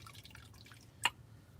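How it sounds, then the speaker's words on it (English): Water drains out of a sink in a van, giving a single sharp drip or gurgle that stands out from a low hum and faint clatter. "I'm letting the water out the sink into that thing."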